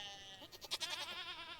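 A goat bleats in Stardew Valley, a single wavering farm-animal cry rising clearly over a faint steady background tone, close and moderately loud.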